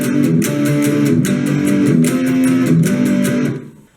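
Guitar playing the intro riff of a song, a rhythmic strummed pattern with regular bright attacks over a steady chordal body, loud and alone before fading out at the end.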